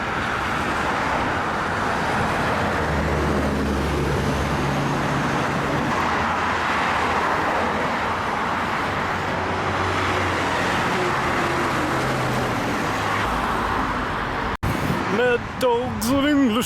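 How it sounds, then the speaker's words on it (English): A big tour bus rolls through busy street traffic in Muscat, its steady engine drone and road roar filling the scene, with passing cars around it and someone talking over the noise. "Oh, here's the Muscat big bus."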